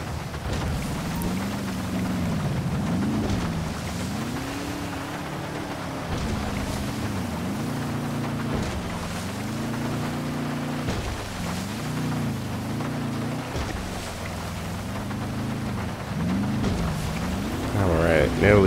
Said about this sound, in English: Yo, these waves are getting out of control.